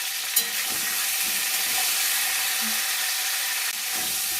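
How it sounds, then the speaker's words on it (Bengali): Cauliflower frying in a pan with salt and a little turmeric, a steady close sizzle with faint stirring scrapes, no talking. "অল্প একটু হলুদ দিয়ে ফুলকপিটা ভাজবো"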